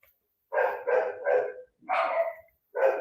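A dog barks in four separate bursts, the first three in quick succession, then a pause and two more, fairly close and loud, with no talk over it.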